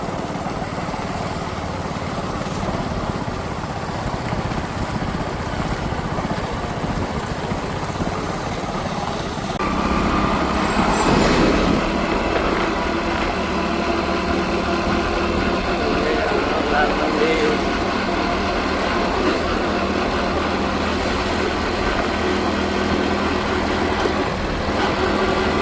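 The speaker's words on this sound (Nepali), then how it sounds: "लालबन्दी पुरै चाहिँ देखाउन पाउँदिनँ किनकि बाइकमा छु, हाँकिरहेको छु।" A motorbike is ridden along village roads, its engine droning steadily under heavy wind rush that grows louder partway through.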